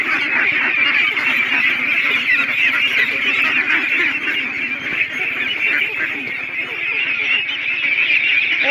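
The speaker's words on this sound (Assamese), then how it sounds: "আমি এতিয়া হাঁহ এৰি দিবলৈ ওলাইছোঁ" A large flock of farm ducks being let out fills the air with dense, continuous quacking and honking, loud and close, with overlapping calls that never pause.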